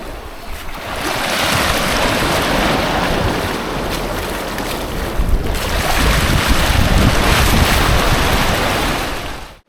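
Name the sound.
ocean waves at the beach while swimming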